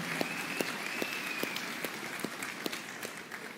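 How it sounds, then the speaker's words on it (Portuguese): A church congregation claps steadily together, a dense wash of applause with a few sharper individual claps standing out, sustained throughout. "Você pode fazer uma festa, dar uma salva de palmas a Jesus."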